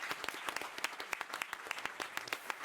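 An audience applauds the panelists at the close of a Davos 2019 panel discussion on plastic pollution, a steady patter of many hands clapping at moderate loudness, with no talk over it.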